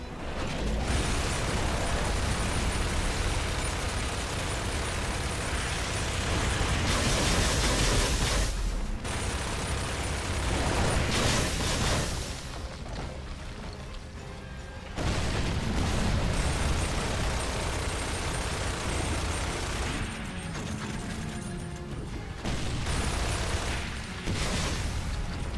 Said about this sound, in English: Use the turret!